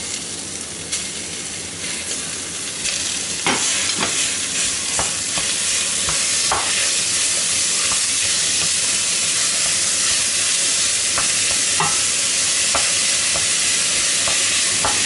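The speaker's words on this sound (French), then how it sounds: "On va la faire frire." Minced meat frying with browned onions in a pan for Colombian empanadas, a loud continuous sizzle with frequent scraping clicks of a utensil stirring the mixture.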